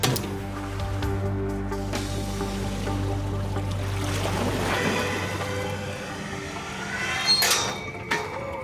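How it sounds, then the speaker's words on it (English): Water rushes and churns around an empty box loaded with 200 pounds as it sinks, a steady low rumble and gurgle with a mechanical hum that fades partway, followed by a few sharp splashes and knocks near the end. "They hope the inrush of water to the empty box will drive the vortex effect."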